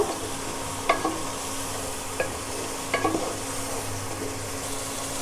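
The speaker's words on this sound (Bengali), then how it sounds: "চিংড়ি মাছ দিয়ে আবার ভালো করে কষিয়ে নিব।" Shrimp stir-fry in a pan for a banana flower and coconut milk curry, a soft continuous sizzle broken by a few sharp spatula scrapes and clinks against the pan.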